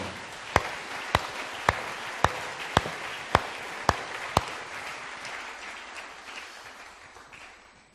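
A church congregation applauds after a Scripture reading at a pastor's sermon, loud sharp claps landing in a slow, even rhythm about every half second, then fading into softer scattered clapping and room murmur.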